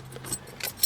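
Keys to a 2003 Ford Crown Victoria P71 detective car jangle briefly, with a few bright metallic clinks that come close together and sound near the listener.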